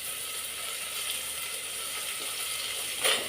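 Tomatoes sautéing in a pan of softened onions for bitter gourd sambar, giving a steady broadband sizzle and crackle throughout, with a slightly louder burst near the end as they are stirred.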